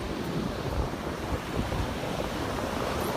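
Strong wind and rough surf pound a beach, a steady close roar of breaking waves with heavy wind buffeting the microphone throughout.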